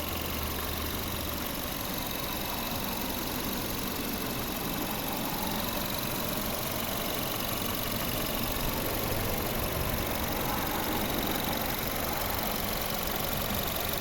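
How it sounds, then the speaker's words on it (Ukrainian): A 2010 Seat Ibiza FR 1.4 engine with automatic transmission idling close by, a steady, even hum that runs without change for the whole stretch. "Ось робота двигуна."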